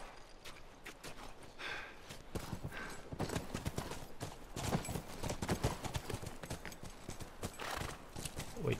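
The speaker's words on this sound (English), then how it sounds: "Back to the horses." In The Last of Us video game, horse hooves clip-clop in a steady walking rhythm, close and clear, with an occasional whinny and soft movement noises.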